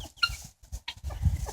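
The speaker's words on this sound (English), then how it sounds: "This chicken right here is a silkie." A silkie chicken clucks in short, close bursts with brief pauses between, clear and alone.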